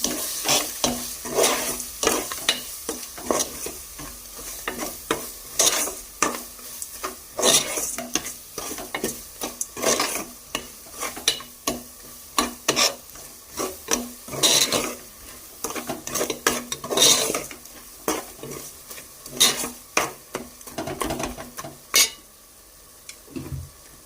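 Fish curry ingredients with chili powder and coarse salt are stirred in a pan, a steady run of scraping and clattering strokes over a soft sizzle, close and fairly loud with no talking.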